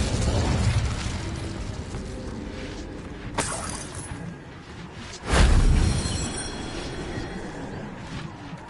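Incendio fire spell cast in a Harry Potter video game, heard as a sharp whoosh near 3.4 seconds and a louder, heavy burst around 5.3 seconds over a steady rumbling background.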